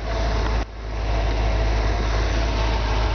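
Low, steady idle of a 1977 Chevrolet Corvette engine, a loud continuous rumble with a brief dip near the start before settling back to an even drone.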